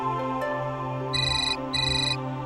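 A phone ringtone plays two bright electronic pulses of repeated high beeps over a steady low background hum in an indoor home scene, loud and close with no talking.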